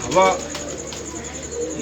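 A pigeon on a rooftop gives a short, fairly loud coo near the start, then softer bird sounds continue over a background hum and a steady high tone.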